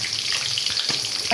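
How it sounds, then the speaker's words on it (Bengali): Potatoes with turmeric and salt fry in hot oil, giving a steady, close, crackling sizzle with no voices. "দেখেন লাল লাল করে আলু ভাজছে"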